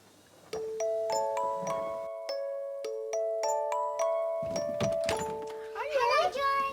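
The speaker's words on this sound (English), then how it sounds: "When the doorbell rings." A doorbell chimes in a family home, a sequence of clear ringing tones with sustained overlapping notes, followed by children's voices talking near the end.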